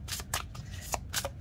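A deck of gilded tarot cards is shuffled close up in quick bursts, with several crisp riffling flutters separated by short pauses, and no talking.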